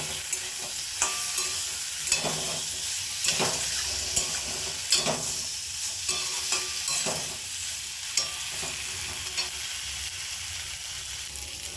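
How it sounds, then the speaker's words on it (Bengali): Spice paste with sugar, salt and turmeric sautés in a pan for a raw banana and potato curry: a continuous close sizzle with repeated spatula scrapes and taps, plus a faint watery trickle, no talk. "মশলাটা ভালো করে কষানো হয়ে গেছে"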